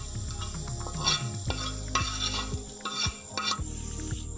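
A utensil stirs fried onions into beaten egg for a masala omelet, scraping and clinking steadily against the bowl in a rhythmic pattern while frying sizzles in the background.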